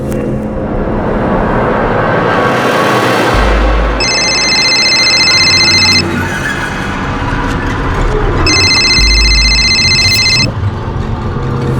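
An alarm clock set for 5 am sounds in two separate bursts of bright, high electronic ringing, each lasting about two seconds. The ringing cuts through a loud, steady rumbling background.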